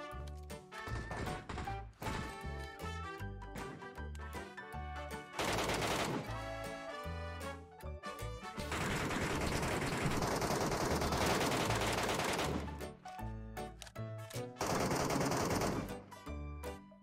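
Automatic gunfire in PUBG Metro Royale, bursts of fast rattling shots with louder sustained stretches of firing and brief pauses, quite faint overall.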